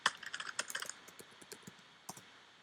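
Rapid bursts of typing on a computer keyboard, a flurry of close, crisp key clicks followed by a few sparse taps, at low level with no talk.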